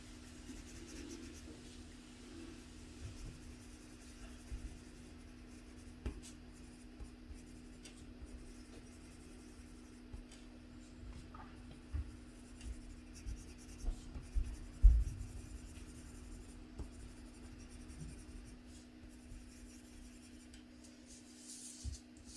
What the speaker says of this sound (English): Here we can pretty much finish burnishing this section.